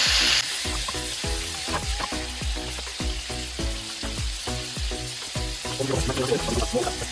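Chili tiger prawns sizzle steadily in hot butter with a squeeze of lemon juice, with repeated stirring and scraping in the pan close by.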